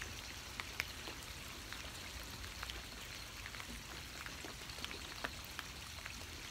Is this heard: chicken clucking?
no